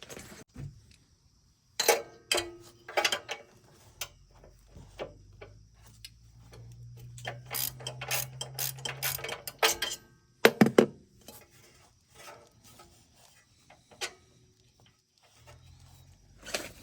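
A socket ratchet tightens bolts on a Generac generator behind its motor, heard as close bursts of rapid clicking separated by pauses, with occasional metallic clanks and a low hum in between.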